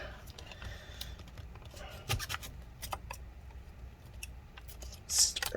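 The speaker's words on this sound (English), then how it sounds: "let's go ahead and cut this side now" Cutting during a battery replacement on a 13-inch Early 2015 MacBook Pro A1502 produces close, crisp snips and scraping clicks, irregular and fairly quiet, with a sharper burst near the end.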